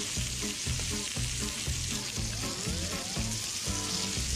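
A sausage sears in a hot pan, giving a close, steady sizzle with bursts of crackle and soft scraping as it is moved, no talking.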